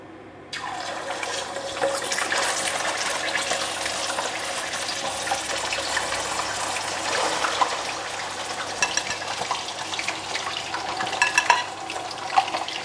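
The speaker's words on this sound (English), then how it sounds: "Now we're going to fry the fish. So I have preheated the oil. This oil is really very hot. We're going to put in the fish." Fish fillets dropped into preheated, very hot oil in a home kitchen give a sudden loud, steady sizzle and crackle that starts near the beginning and continues without talk.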